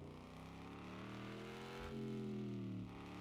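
Car engine in the Car For Sale Simulator 2023 video game revving steadily, rising in pitch then holding high before easing, a smooth continuous drone with no talking.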